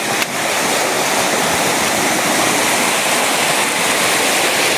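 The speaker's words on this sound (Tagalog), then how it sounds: "Ay! Sapa naman po." A mountain stream rushes and splashes continuously, loud and close, a steady broadband wash of flowing water with no voices.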